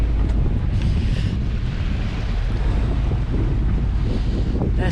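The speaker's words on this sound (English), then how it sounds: "There's no wind, so we are just motoring away." A sailboat motoring under engine power on a calm sea, with a steady low engine drone mixed with rushing wind buffeting the microphone and water noise, no voices.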